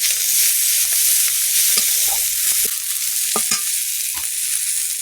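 Panch phoron, dried chilli, chopped onion, garlic and green chillies sizzle in hot oil, a loud continuous hiss with a few scattered spoon scrapes and knocks against the pan, close up, no voices.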